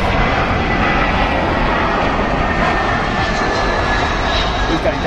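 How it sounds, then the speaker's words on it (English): A Qatar Airbus A320 jet roars steadily and loudly throughout, a dense continuous engine noise with no breaks, heard outdoors on a hot day. "A320, Qatar."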